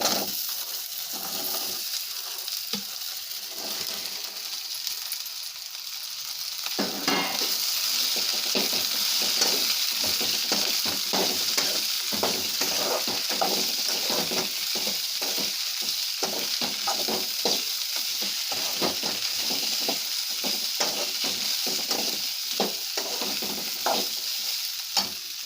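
Beans and potatoes go into a pan of frying reddened onions, Malvani style, and are stirred: a steady close sizzle with dense scraping stir strokes, quieter at first and then louder and continuous.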